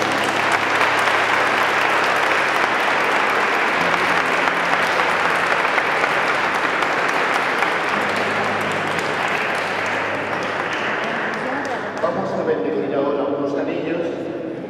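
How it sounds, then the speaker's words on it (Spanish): Guests applaud at a wedding ceremony in Casar de Palomero, a steady, loud burst of clapping filling the whole stretch and thinning toward the end, with voices talking underneath. "Le vamos a dar un aplauso"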